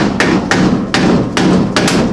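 A hammer taps a pipe through a wooden block while fitting an off-grid water heater, giving five or six firm, evenly spaced thuds up close.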